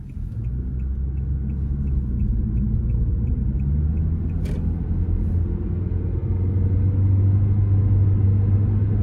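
Steady low rumble of a 2016 Kia Soul's naturally aspirated 4-cylinder engine while driving, with road and cabin noise building slightly as the engine note rises toward the end.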